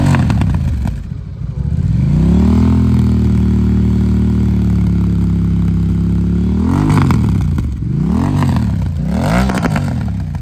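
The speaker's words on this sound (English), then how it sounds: "Those backfires are crazy." A Honda Rebel 1100T motorcycle fitted with a Vance & Hines exhaust, loud and close, holds a steady deep rumble, then revs up and drops off repeatedly with sharp crackling backfires as the throttle closes.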